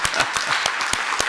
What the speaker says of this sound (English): on les applaudit quand même.